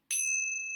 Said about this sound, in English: And I'll ring the bell.